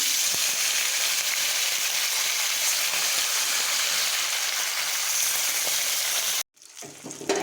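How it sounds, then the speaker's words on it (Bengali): Fresh bata fish laid into hot oil in a Bengali kitchen, a loud steady sizzle and crackle of frying that runs continuously, then cuts off abruptly before resuming more quietly. "তেল গরম হয়ে গেছে এবার আমি মাছটা ছেড়ে দেবো"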